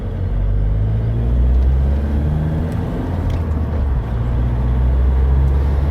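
Car driving along a tarmac road, heard from inside as a steady low engine and road rumble with faint tyre noise, no talk.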